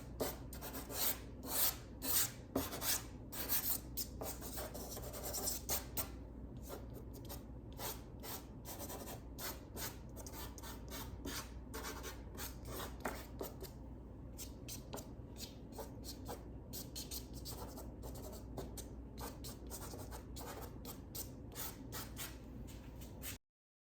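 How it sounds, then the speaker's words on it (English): Pastel stick rubbing lightly across paper in loose scumbling strokes, a soft continuous dry rasp with short rhythmic bursts early on, close and steady with no talking. "here I'm just doing what's called scumbling, just kind of getting basic color down"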